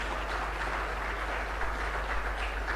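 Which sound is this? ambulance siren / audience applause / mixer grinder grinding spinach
audience applause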